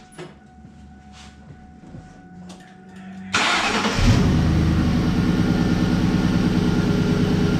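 A 1999–2004 Ford Mustang GT 4.6 engine cranks briefly after some quiet clicks, catches and settles into a steady, close, smooth idle, with no talk.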